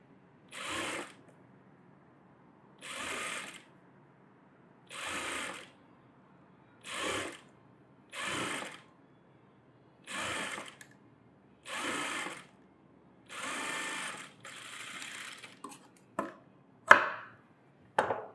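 A sewing machine stitching piping onto the neckline of a net blouse runs in short bursts, about nine evenly spaced runs of a second or so each, close and clear. Faint clicks and handling follow at the end, with no talk.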